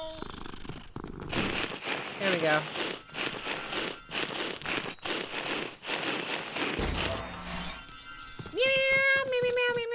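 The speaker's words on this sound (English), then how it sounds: "Oh, I have a kitty." A cartoonish cat in the Lego Harry Potter video game purrs in a steady rumbling run, then gives a few short rising meows near the end, with a person briefly talking over it.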